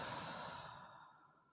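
A single deep, slow exhale during a grounding breathing exercise, close and soft, fading gradually as the breath runs out.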